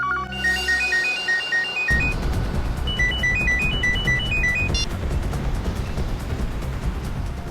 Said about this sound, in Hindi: ये फोन की घंटी बिल्कुल सही टाइम पर बजी